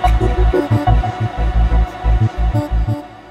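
A throbbing, pulsing texture from the Tempera granular synthesizer with a deep low hum, swelling in uneven bursts and washed in long reverb, with no voices.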